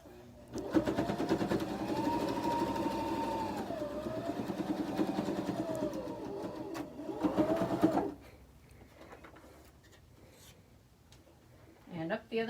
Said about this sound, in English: Now, we're going to sew down both our sides.